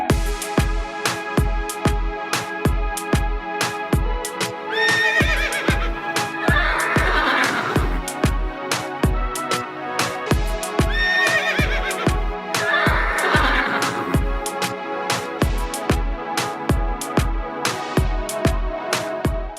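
A horse at a horse farm in Wayanad, Kerala, whinnies twice, each call a rising then falling cry, over a steady thumping rhythmic beat that runs the whole time.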